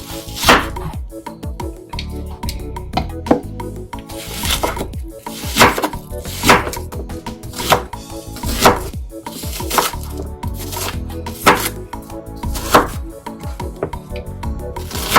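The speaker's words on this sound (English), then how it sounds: "So we'll go ahead and chop our onions." A knife chops onions on a board with many sharp, close cuts in uneven bursts, some quick runs and some spaced strokes, and no voices.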